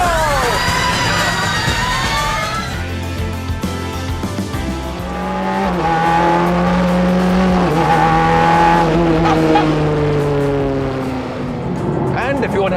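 A car launches hard from traffic lights at full throttle, the engine rising through revs close and loud while tires squeal, with a driver speaking over the noise.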